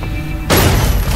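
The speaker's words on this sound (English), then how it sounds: "Gunfire." Gunfire from the video game Sleeping Dogs during a wedding shootout: after a quiet moment, a sudden loud, close burst erupts and keeps roaring for the rest of the moment.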